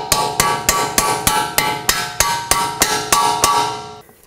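Bolts are hammered through the steering knuckle of a 2005-2010 Pontiac G6 during a front CV axle job, a dozen sharp metallic blows landing in an even, steady rhythm, close and loud with no speech.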